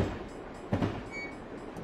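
A diesel locomotive train in Alaska from Train Simulator Classic rumbles along with a low running drone and a single louder clunk partway through.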